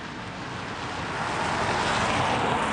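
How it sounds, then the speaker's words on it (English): A car approaches on a road at night, its engine and tyre noise rising steadily from faint to louder over a few seconds with no talking. "Car coming. Yeah, we got a car."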